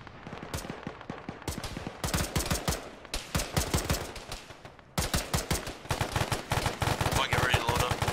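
Gunfire in the ArmA military video game, rapid bursts of shots cracking back and forth in dense, loud volleys that continue almost without pause.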